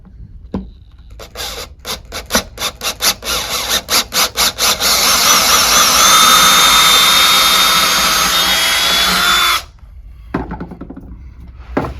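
A drill fitted with an 11/32 bit works a mounting plate in several short bursts, then runs in one long steady whine for about five seconds before stopping, with a few more brief blips after.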